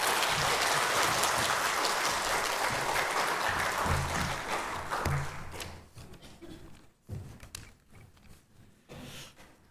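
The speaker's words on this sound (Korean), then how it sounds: "박수로 맞이하겠습니다." A church congregation at a Sunday morning worship service applauds to welcome a visiting pastor, a dense sustained clapping that fades out after several seconds, leaving scattered thumps and room sounds.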